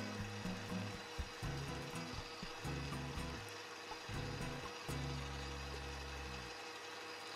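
Electric mixing machine beating cake batter with egg in a bakery, a steady low motor whine that pulses and cuts in and out, fairly faint and close, with no talk.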